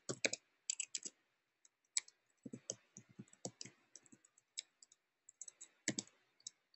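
A teacher's name typed on a computer keyboard, scattered bursts of crisp key clicks with short pauses between words, close and quiet against near silence.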